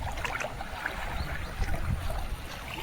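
A village river running strongly after the first monsoon rain, a dense continuous rush of water close by with low churning surges and no voices.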